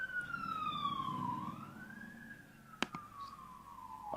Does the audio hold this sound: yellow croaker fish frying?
no